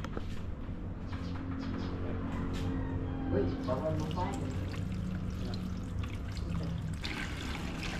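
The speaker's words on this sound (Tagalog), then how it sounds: "Ngayon bibigyan ko muna siya ng tubig." Water is poured into a cooking pot in a home kitchen while making ube halaya, a continuous splashing trickle with faint background sounds.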